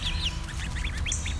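Khaki Campbell laying ducks on a homestead give a quick run of short, nasal quacks, fairly faint and close together, over a low rumbling background.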